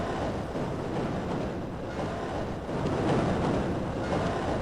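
Tram rolling along in the Half-Life mod Uriel, a steady loud rumbling wash of rail noise with rhythmic clatter and a slight swell in the middle, no voices.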